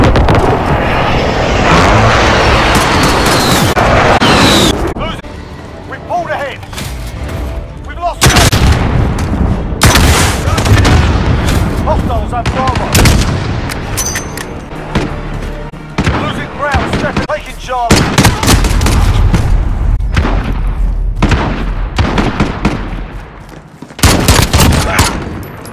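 Airstrike explosions and bursts of gunfire in Call of Duty: Modern Warfare, loud and dense, with repeated booms and rapid shots running almost continuously, mixed with radio-style voices.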